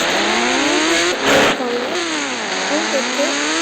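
A motorbike engine revs hard close by, its pitch climbing, dipping and climbing again in quick throttle blips, loud and steady under a brief burst of noise.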